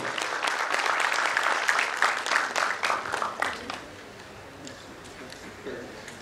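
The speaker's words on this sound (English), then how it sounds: "Please give a big round of applause." A crowd claps loudly for a few seconds at an architecture institute convocation, then the applause fades to scattered claps and a quieter room murmur.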